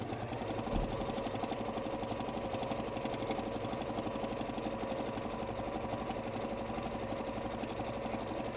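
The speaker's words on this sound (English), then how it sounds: "let's increase the stitch length for a little bit of top stitching" Sewing machine running steadily with a longer stitch length for top stitching, a fast, even mechanical whirring with rapid rhythmic ticking, continuous and close, with no speech.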